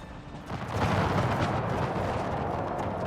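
A volley fired by massed guards infantry in the video game Empire: Total War, a dense, continuous roar of musket fire that swells after the first half-second and holds loud and steady to the end.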